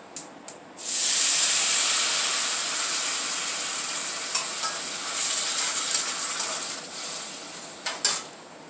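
Tamarind goes into a hot pan for pulihora: after a couple of light taps, a sudden loud, close sizzling hiss bursts out and slowly settles, with a few utensil clinks near the end.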